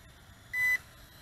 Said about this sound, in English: Headless mode beep, and it is in headless mode.